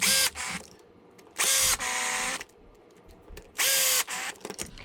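Small power driver whirring in three short bursts while tightening the cover on an R/C car's front end clip, close and bright with faint handling noises between runs.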